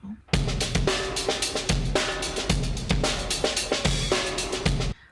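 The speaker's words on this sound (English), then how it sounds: "Like just a really dirty drum kit." A gritty, distorted drum kit plays a steady groove of punchy kicks and crashing, trashy hits, loud and with no voices.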